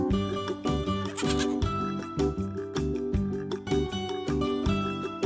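A flock of goats bleats repeatedly in an animated village story, with the bleats mixed under steady, loud background music.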